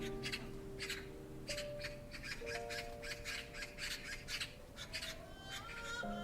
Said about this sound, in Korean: 어디선가 까치 울음소리가 들려왔답니다.